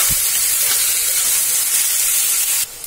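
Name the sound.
onions frying in oil until golden brown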